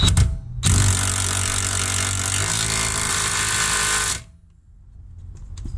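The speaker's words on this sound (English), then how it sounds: "If you got an impact, use it." An impact wrench tightens a 3/4 nut on the wheel hub of a 2017 Hyundai Santa Fe during wheel bearing replacement, giving one loud, close, continuous buzzing burst of about three and a half seconds that cuts off abruptly into quiet.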